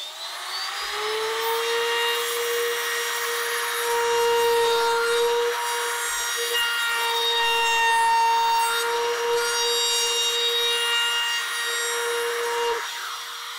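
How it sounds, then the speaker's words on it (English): A router fitted with a 3/16-inch radius round-over bit rounds the edges of a hole in wooden boat floorboards, giving a loud, steady high whine with the cutting noise varying slightly before the motor winds down. "now I've got a 3/16 radius round over bit, so we'll use that just to soften up this hole on both sides"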